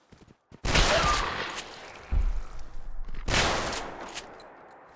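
Gunfire in the video game Fallout 4: loud, close bursts of rapid shots come in two clusters with a short pause between them, then trail off.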